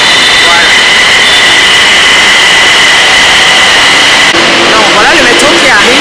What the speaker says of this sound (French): voilà le métro qui arrive